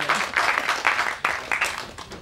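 Audience clapping for a film producer at a Tamil movie team event, uneven bursts of applause that swell and dip in a few waves, fairly close and loud.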